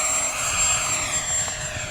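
An RC model jet, the X-Fly B1B Lancer, takes off at full throttle with a steady, loud, high turbine whine and roar that holds constant and close throughout.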